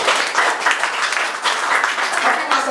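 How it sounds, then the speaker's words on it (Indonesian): Church congregation applauding at a Sunday service, a steady, dense wash of clapping from many hands, loud and close, with no talk over it. "Boleh berikan tepuk tangan buat Tuhan."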